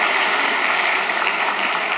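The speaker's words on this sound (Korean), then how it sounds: "큰 박수." A church congregation claps together in a broad, steady burst of applause that stays fairly loud and even for a couple of seconds, with no speech over it.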